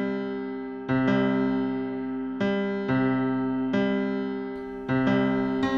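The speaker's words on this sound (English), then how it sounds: "What you're hearing are the actual orbital frequencies, sped up into the human hearing range." Actual planetary orbital frequencies sped up into audible range form a perfect fifth: two buzzy sustained electronic tones re-struck roughly every one to one and a half seconds in an even rhythm, loud and close, with no voices.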